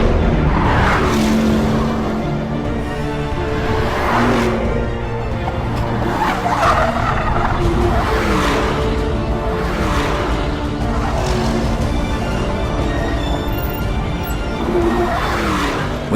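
A 2018 Porsche Panamera, a standard production car, driving hard around a racetrack, its engine roaring loud and continuous with tire squeal and rising and falling revs through the corners.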